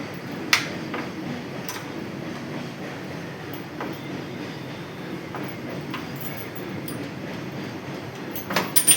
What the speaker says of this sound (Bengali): পাশে যেহেতু রেল লাইন ওই জন্য ট্রেনের আওয়াজটা মাঝে মধ্যে খুবই আসে